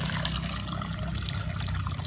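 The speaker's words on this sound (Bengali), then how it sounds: "গরম কড়ার মধ্যে পরিমাণ মতো নরমাল জল দিয়ে দেব।" Plain tap water poured into a hot wok on a stove, a steady continuous trickling splash with low rumble, close and fairly loud, no voices.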